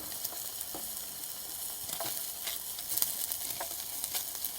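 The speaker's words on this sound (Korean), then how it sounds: "대충 뭐 양파 같이 볶아주고요." Green onion and onion stir-frying in olive oil in a pan at a camp, with a continuous close sizzle and scattered scraping stirs, no talking.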